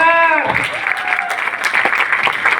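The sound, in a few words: audience applause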